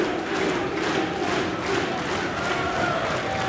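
A pool match crowd at the Mosconi Cup reacts with a steady, broad murmur of groans and sympathetic noise, filling the room continuously with no single voice standing out.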